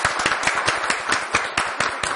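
Thin studio audience applause on a Turkish television word-game show, a sparse patter of hand claps with soft rhythmic peaks, moderately loud and heard alone.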